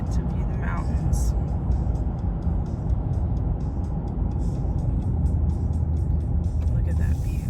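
Steady low road rumble from a car cruising down a mountain road, continuous and fairly loud throughout, with faint voices murmuring underneath.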